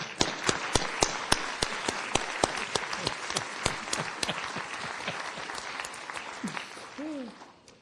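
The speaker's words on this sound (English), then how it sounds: "Let's give a round of applause." A small group applauds at a college staff pin-recognition ceremony, with sharp individual claps standing out in a loose, uneven rhythm, thinning toward the end, followed by a brief vocal sound.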